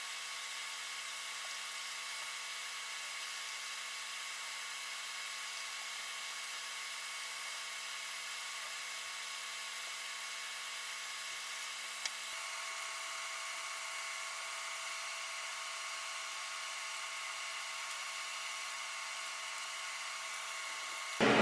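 Hot air rework station at 470 °C and 99% airflow blowing on an Xbox One S HDMI port to desolder it, a long steady whooshing hiss, faint and unchanging, ending with a brief bump.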